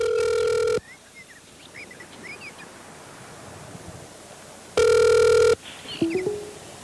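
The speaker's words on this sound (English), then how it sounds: "you gonna answer the phone today?" A telephone rings twice, each ring a loud electronic burst of just under a second, separated by a few seconds of faint background hiss.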